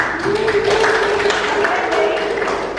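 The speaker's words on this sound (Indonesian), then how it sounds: "Tepuk tangan untuk kita semua." Audience applause at the end of a debate: steady, dense clapping throughout, moderately loud and close, with a faint tonal hum running underneath.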